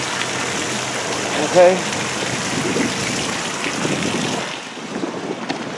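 Water rushes and splashes steadily from an RV trailer tank into a dump station drain, a loud continuous hiss that eases slightly near the end, with a brief spoken word partway through.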